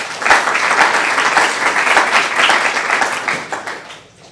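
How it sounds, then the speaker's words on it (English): An audience applauds at a 2022 graduation ceremony, a full, steady round of clapping that holds for about four seconds before tapering off. "let's give Mr. Sosnow a round of applause"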